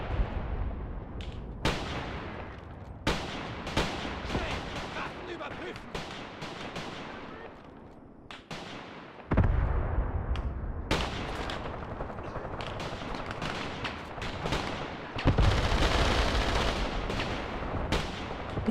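Machine gun and cannon fire in the war game Graviteam Tactics: Mius Front at Saur-Mogila, with sharp repeated gunshots and heavier booming blasts rattling irregularly, some near and loud, others more distant, with a voice talking at times.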